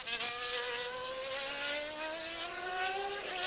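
Michael Schumacher's Formula 1 car laps in qualifying at the 1993 Portuguese Grand Prix with a high, buzzing engine whine whose pitch climbs steadily, heard at moderate distance.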